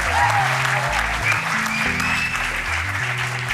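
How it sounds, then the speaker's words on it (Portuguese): A TV game show studio audience claps in sustained, loud applause while music plays underneath. "Um grande aplauso para ele, para o Ricardo."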